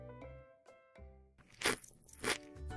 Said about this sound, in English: Here are my raspberries. They're crunchy and juicy at the same time.